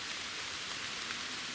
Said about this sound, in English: it's starting to rain pretty hard here